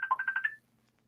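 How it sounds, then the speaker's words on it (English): A mobile phone ringtone plays a short, bright warbling melody of about five quick pulses, close and clear, then cuts off into near silence. "Sorry about that. That was my phone."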